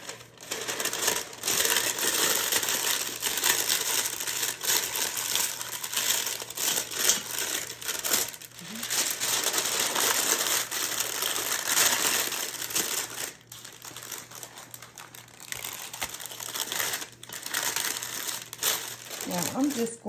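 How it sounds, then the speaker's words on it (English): Parchment paper is pressed down into a bundt pan, giving bursts of close, crisp crinkling and rustling that come and go with short lulls throughout. "we're gonna put some parchment paper down in the bundt pan"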